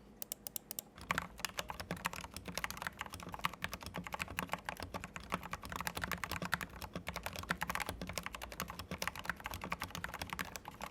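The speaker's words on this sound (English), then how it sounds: "I tried using the VS2 switches with some tall MT3 profile keycaps to guarantee interference-free typing" Fast, continuous typing on a Vissles V84 mechanical keyboard with VS2 switches and tall MT3-profile keycaps, close up, with dense, muted keystrokes throughout.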